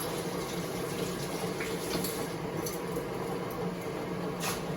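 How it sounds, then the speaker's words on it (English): Coconut milk poured in a steady continuous stream, a soft liquid gush with faint splashing, alone and fairly quiet. "Alright, you do the same with the coconut milk."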